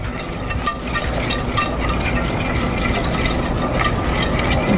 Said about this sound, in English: you're just going to whisk this till it's nice and smooth